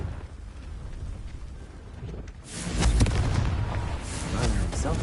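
Confringo fire spell explosions in Hogwarts Legacy, a quiet rumbling stretch that breaks midway into a loud, sustained burst of booming blasts and crackling bursts.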